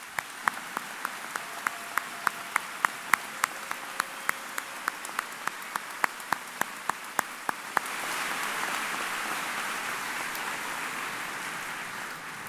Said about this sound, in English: Would you please give me a round of applause for their appreciation for our program?